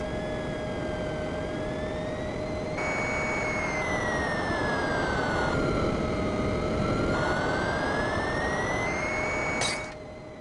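Synthesized plane engine from a Back to the Future video game, a steady electronic drone with gliding pitch sweeps that rise and fall, alone and moderately loud until a sharp cut near the end.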